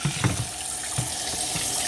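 Water running from a hose or tap into a Costway twin tub portable washer, a steady splashing rush with a few brief gurgling bursts, close and continuous with no talking.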